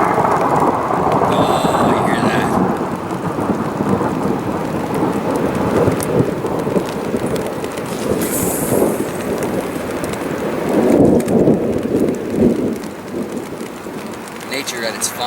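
Thunder rumbling from a lightning strike up in the mountains, booming loud and close alongside steady rain and wind, swelling in rolling waves.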